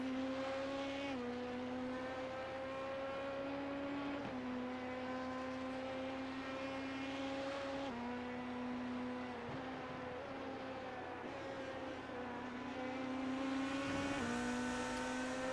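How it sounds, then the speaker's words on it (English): GT3 race car in the iRacing simulator at Sebring, its steady engine note humming at low revs with slight pitch shifts while rolling into the pit lane, continuous and moderately loud without talk. "First of the GT3s comes into the pit lane."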